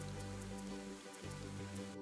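Rain in the video game Ender Magnolia, a soft, continuous hiss of falling rain, faint and steady, layered with low tonal game ambience throughout.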